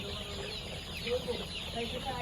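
Brown Cock chickens about 35 days old, raised on rice-husk bedding on the ground, cluck softly in a farm shed, with faint scattered calls over a steady background hum and some talk.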